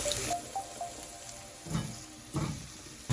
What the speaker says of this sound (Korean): 중불에 해서 볶아줄게요